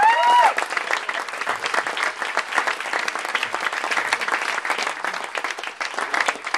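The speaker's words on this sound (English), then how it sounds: "Let's give both of them a big," A Special Olympics audience gives a big round of applause, dense and steady clapping filling the room throughout, with a voice heard briefly at the very start.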